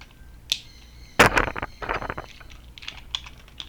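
Spinning Beyblade tops in a battle arena give off a few sharp, close clicks, with one louder cluster of rapid clicks and lighter ticks scattered after it.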